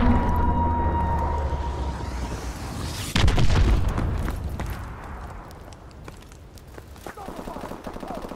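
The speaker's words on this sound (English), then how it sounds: "Enemy missile strikes." Missile strikes explode in a Call of Duty: Advanced Warfare battle, with a loud boom followed by rolling rumbles and scattered gunfire cracks amid the game's layered noise.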